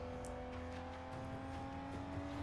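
A car driven in the open-world video game Sleeping Dogs, its steady engine hum and drone running continuously with a broad road-noise wash, no talk over it.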